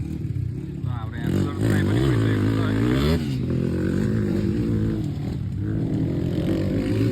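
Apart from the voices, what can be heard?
motorcycle engine revving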